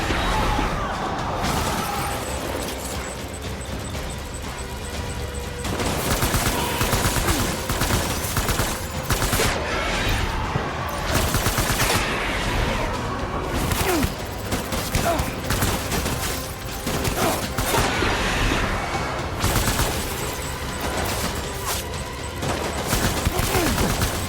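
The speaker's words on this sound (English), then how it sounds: "Open fire." Rapid bursts of soldiers' gunfire in Death Stranding rattle continuously under a busy battle mix, with loud crackling volleys, engine-like rumble and occasional shouted voices throughout.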